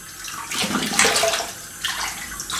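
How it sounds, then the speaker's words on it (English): Water runs steadily as a RazoRock Mamba .70 safety razor is rinsed under a tap mid-shave, a close, continuous splashing rush that swells briefly in the middle and again near the end. "I'll have a quick rinse."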